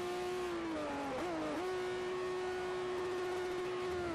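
A pre-1975 car in Forza 4 with its engine holding a steady tone, dipping briefly through a couple of quick gear changes before settling back into a sustained, moderately loud drone.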